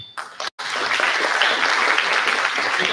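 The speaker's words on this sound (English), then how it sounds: "let's clap for Chinmay." An audience at an induction programme breaks into a few scattered claps, then a dense, loud round of applause that holds steady for a couple of seconds.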